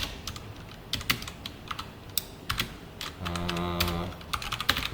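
Code typed on a computer keyboard during a C programming lesson on pointers, a brisk run of close key clicks with a brief held stretch in the middle and no speech.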